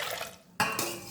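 Water is poured into a pot of washed lentils in one short, close splash that briefly drops off and then gushes again, with no voices.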